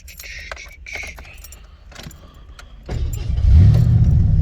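Keys jangle in the ignition of a 1986 Lincoln Town Car, then the engine cranks and fires up at about three seconds, settling into a loud, close, rumbling idle.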